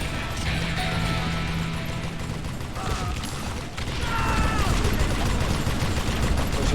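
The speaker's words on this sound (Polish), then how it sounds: "Coś jeszcze wybuchło." A loud explosion in the Call of Juarez video game, broad crashing blasts with debris and scattered gunfire over continuous game noise, a heavier boom arriving near the end.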